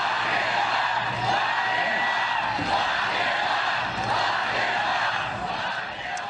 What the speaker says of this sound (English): Florida rally crowd breaking into chants of lock him up after newly surfaced alleged Hunter Biden em